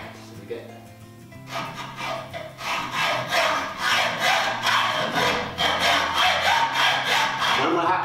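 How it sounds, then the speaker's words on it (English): A hacksaw slowly working through 4 mm tray, close and distinct, settling into an even rhythm of rasping back-and-forth strokes after a quieter opening moment. "when we're hacksawing, try and keep it relatively slow angle and nice and slowly, allowing the hacksaw to do the work"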